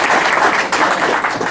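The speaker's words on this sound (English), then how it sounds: "really that applause should be for the Liberty Counsel and Josh Dixon" A brief burst of steady audience applause at a meeting, many hands clapping together at close range in a dense, even wash.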